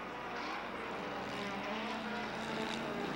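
A yellow Pontiac Firebird race car at the 1998 Motorola Cup in Montreal is thrown side to side through a quick right-left chicane, its engine a steady, moderately distant roar with no speech over it.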